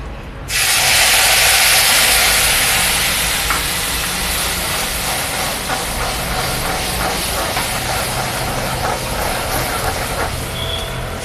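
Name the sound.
spice mix added to hot oil, sizzling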